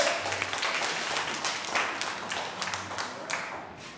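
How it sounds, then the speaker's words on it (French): Audience applauding a champion at a learner competition event, dense clapping sustained across the clip with scattered sharper claps, moderately loud and close. "On applaudit le champion."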